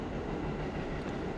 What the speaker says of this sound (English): Just going to let the train pass by.